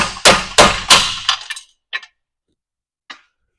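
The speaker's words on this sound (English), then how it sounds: "Take a hammer and just knock out the studs on the bumper." A hammer strikes metal several times in quick, sharp blows, knocking the studs out of a RAM 3500 bumper, then a few lighter clinks trail off into silence.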